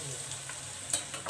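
Chicken pieces for homemade KFC-style fried chicken frying in hot oil over a medium flame, a steady soft sizzle with a few brief louder crackles, heard alone.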